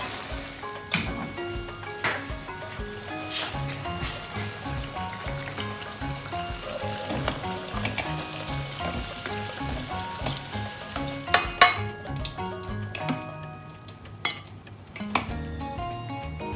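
Potato pieces for a Spanish tortilla sizzle and crackle in very hot oil while being drained, a steady dense frying hiss with clinks from a utensil or pan, close up and without talking.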